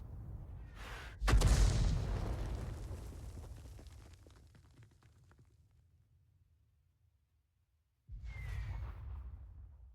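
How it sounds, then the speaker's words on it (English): A 15-centimeter artillery shell lands close by in a War Thunder tank battle: a loud, sudden boom with a rumbling tail that fades over several seconds, then a second heavy rumble rises near the end. "that sounds to me like it was a 15-centimeter shell, because one just landed only a short distance away from us down on the valley floor"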